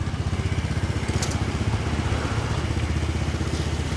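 A 2016 Yamaha VMAX, the 60th Anniversary color model, idles nearby with a steady low rumbling pulse that holds an even, rhythmic beat throughout.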